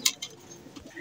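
A racing pigeon coos close by in a loft, a few short soft calls with light rustling between them.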